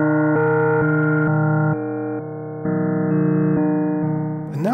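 A Rossum Panharmonium synthesizer playing slowed sine wave slices: a sustained tone that steps between pitches every half second or so, loud and alone, ending in a quick upward sweep.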